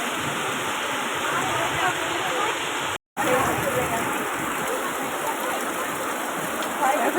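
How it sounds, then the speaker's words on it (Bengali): Heavy rain pours steadily and loudly, with water flooding the ground and rushing past at close range. The dense roar cuts out for a moment and then resumes just as strong. "আর এখানে সবাই আটকে গেছে বৃষ্টিতে।"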